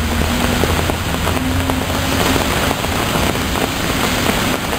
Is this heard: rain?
yes